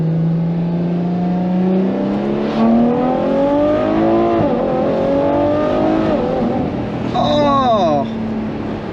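A Ferrari F12 TDF track-variant V12 rises and falls in pitch as the car shifts down a gear, with a sharp rev blip near the end, heard from inside the cabin at steady loudness.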